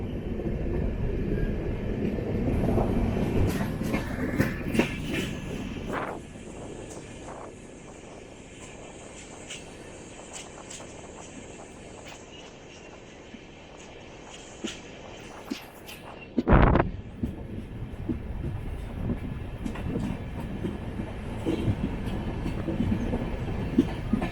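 The 20684 Tambaram Superfast Express runs on rails from Sengottai, its steady rumble and clatter rising and falling, with a sharp loud burst midway and brisk rhythmic clicking of wheels toward the end.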